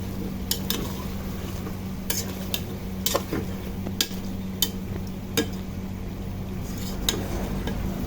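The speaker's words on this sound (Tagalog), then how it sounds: "Then, haluin natin." A utensil stirs chicken adobo with potatoes in a pan, giving sharp intermittent scrapes and clinks over a steady sizzle and low hum, close up with no talking.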